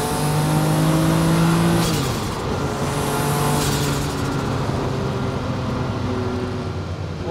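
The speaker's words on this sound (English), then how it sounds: "Pick up the power. Hear that engine sing." Porsche 962 race car engine at Goodwood, a loud, close 730 hp roar that holds steady then shifts pitch as the car picks up power, with a brief wastegate hiss near the two-second mark.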